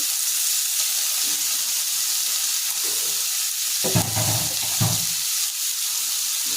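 Pre-boiled carrots and broccoli go into a pan with butter and onions and fry with a continuous bright sizzle, broken by a couple of soft thumps and stirring scrapes partway through.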